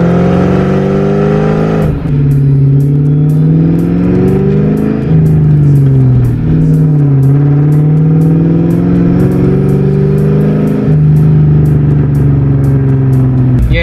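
A stock Ford Mustang GT V8 pulls hard in fourth gear from 2,500 RPM, its loud, close engine note climbing steadily and then dipping briefly before rising again, with a rhythmic ticking running over the drone.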